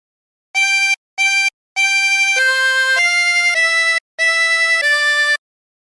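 A chromatic harmonica plays a slow phrase of the carol Hark The Herald Angels Sing, with clear sustained reedy notes in short separated groups, loud and close with no voices.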